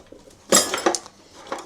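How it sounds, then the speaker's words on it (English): Metal cutlery clinks and rattles in a kitchen cutlery drawer, a sharp close burst of jangling followed by a few lighter clinks as pieces shift. "So, the cutlery drawer."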